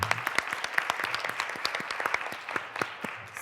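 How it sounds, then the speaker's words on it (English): Audience clapping at a startup pitch competition, a moderately loud burst of many hands with distinct sharp claps standing out, sustained evenly for a few seconds before thinning. "Let's give them a round of applause"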